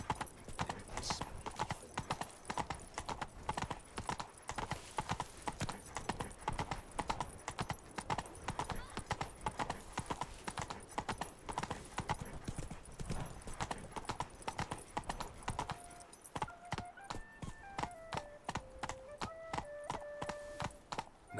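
Hoofbeats of the horse Roach trotting steadily in The Witcher game, a continuous clip-clop rhythm throughout with faint neighing, alongside game music and brief voices.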